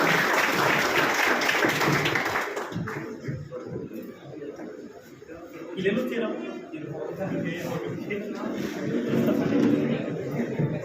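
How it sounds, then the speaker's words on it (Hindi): Audience applause welcoming a guest at a coaching-institute program in Hanumangarh Junction, loud and dense for the first few seconds, then thinning into scattered claps mixed with crowd chatter and background voices. "एक बार तालियों के साथ एक बार फिर से इनका स्वागत किया जाए।"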